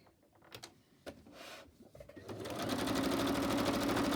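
A sewing machine starts with a few clicks and short bursts, then runs steadily at speed, its rapid stitching rattle close and continuous.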